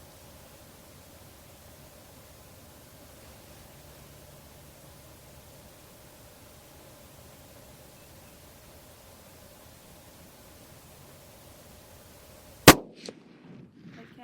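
A Remington 700 in .30-06 fires a single sharp, loud gunshot at a long-range shooting setup, standing out abruptly after a long stretch of faint steady background hiss, then a short trailing echo and rattle.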